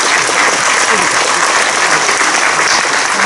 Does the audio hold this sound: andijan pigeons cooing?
no